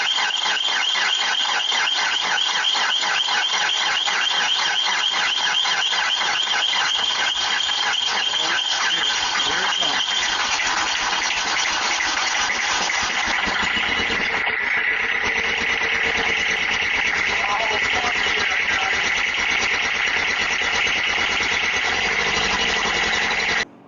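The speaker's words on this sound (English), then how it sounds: "I got the tractor to run, but it smokes like crazy" A Kubota tractor with a failed high-pressure fuel pump runs rough and smokes heavily, its diesel engine chattering and knocking steadily up close for a long stretch with a rattly, uneven idle.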